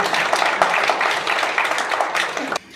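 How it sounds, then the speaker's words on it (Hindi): Loud, dense audience applause fills a gathering in Ujjain marking the Hindu new year, Chaitra Shukla Pratipada, Vikram Samvat 2082, with a steady wash of many clapping hands that cuts off sharply near the end. "एक बार जोरदार तालियां बजाना"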